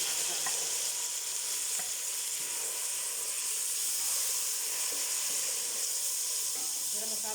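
Onions frying in a pan until lightly browned, a steady dense sizzle with faint stirring clicks, continuous and moderately quiet with no talk.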